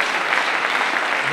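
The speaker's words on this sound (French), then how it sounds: "Maintenant vous pourrez applaudir" Brief burst of congregation applause during a church sermon, dense even clapping filling a short moment at steady volume.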